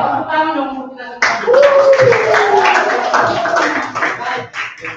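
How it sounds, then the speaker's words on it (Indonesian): Classroom applause as students clap together, a burst of dense hand claps that starts suddenly and fades out, with voices talking and calling out over it. "tepuk tangan dong untuk kita semua"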